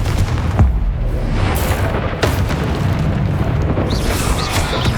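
Fiery Confringo spell blasts from the Hogwarts Legacy video game on PS5, a dense roaring battle mix with booming bursts layered over sustained rumble, loud and continuous across the stretch.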